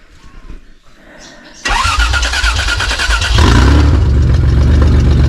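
A car with a swapped-in Toyota 5VZ-FE engine cranks briefly, then catches and roars to life, settling into a loud, rough idle close by.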